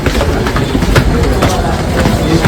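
A train rolls along with a loud, steady rumble and rhythmic clattering of wheels on rails, heard close as if from on board.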